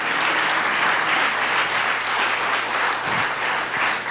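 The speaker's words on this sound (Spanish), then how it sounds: "decir amén y dar un aplauso a Dios por esto" A church congregation applauding together, a loud, sustained wash of clapping from a large crowd, steady throughout with a faint low voice briefly underneath.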